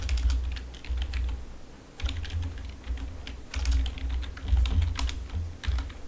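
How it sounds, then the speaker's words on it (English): Close, rapid typing on a computer keyboard, a dense patter of crisp key clicks in steady bursts with a low thump of keystrokes underneath and no talking. "And I can type some stuff here."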